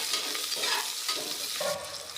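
Onions frying in oil in a pan for chicken biryani, a dense, close, continuous sizzle with soft scraping stirs, heard alone without voices.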